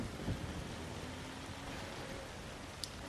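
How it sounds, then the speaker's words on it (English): Steady rain hiss in the video game Zombie Driver HD, a soft even wash of falling drops that stays constant and fairly quiet, with a faint low rumble early on. "starting off with rain."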